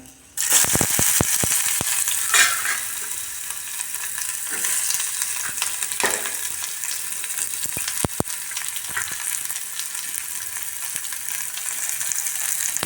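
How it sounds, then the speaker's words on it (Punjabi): Onions hit hot oil in a pan for a Maggi noodle dish, with a loud steady crackling sizzle and occasional stirring scrapes across a long stretch without talk. "ਹੁਣ ਗੰਡੇ ਪਾ ਦਨੇ ਵਿੱਚ ਥੋੜਾ ਪਿੱਛੇ ਹੋ ਜੰਨੇ ਕਿਉਂਕਿ ਛਿੱਟਾ ਪੈਂਦੀਆਂ"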